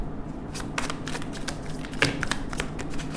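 Tarot cards being shuffled by hand, a steady papery riffle and slide with light taps, close and fairly quiet, no voices.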